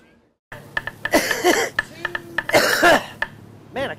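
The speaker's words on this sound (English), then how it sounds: "Man, I can't shake this cough ever since Memphis." Someone coughs and clears their throat close by, a few harsh rasping bursts with short gaps between them.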